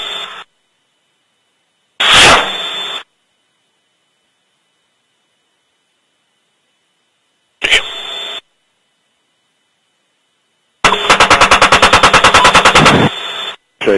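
Apache helicopter machine gun firing in bursts: short loud blasts, then a longer rapid rattling volley, separated by silent gaps, with a harsh compressed radio-like quality.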